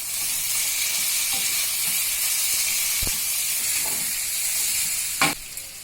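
Chicken fried rice ingredients with soy sauce stir-frying in a hot pan, a loud, steady hiss with a few sharp clacks and scrapes from the stirring utensil, close up and without speech.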